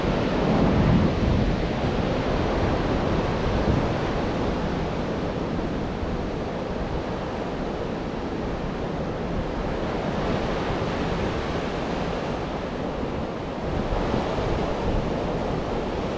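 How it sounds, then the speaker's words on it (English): Big ocean waves break on the shore with a continuous, loud roar of surf and wash, a dense rushing noise that swells slightly but never stops. "those waves are bigger than they look"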